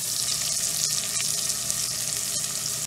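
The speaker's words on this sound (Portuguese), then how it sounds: "primeiro eu vou dar essa refogada no azeite, né? No azeite, no bacon." Bacon sizzling in olive oil in a pan for a Brazilian bean broth, a steady dense crackling fry with no pauses, close and loud.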